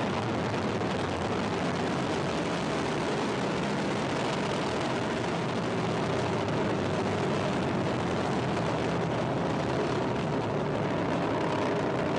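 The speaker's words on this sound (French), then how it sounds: "Toujours aussi impressionnant un décollage." A rocket lifts off into orbit with a steady, dense, rumbling roar that holds loud and unbroken from start to finish, with no voices over it.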